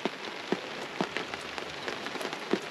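Rain falling on the water of Lake Wimico, Florida, a steady soft patter with heavier drips striking at intervals nearby, alone without talk.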